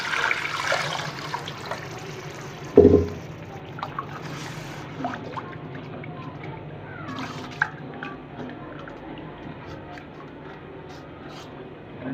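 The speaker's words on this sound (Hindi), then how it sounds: "अब हम इसमें 2 गिलास पानी डाल देंगे।" Two glasses of water poured into frying masala for a fish curry, a short burst of splashing and hissing followed by a quieter bubbling simmer.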